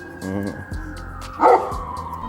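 A bossy dog barks in a backyard garden by a raised bed, giving a few quick, close yips and barks in short bursts, while a person talks between them.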